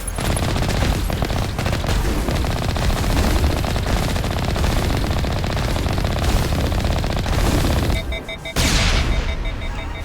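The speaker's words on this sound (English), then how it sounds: "My Gatling cannon overheats." Rapid continuous gunfire from a Gatling cannon in the sci-fi shooter Mass Effect, a dense loud roar of shots for several seconds, then a brief cut and a sharp blast with ringing tones.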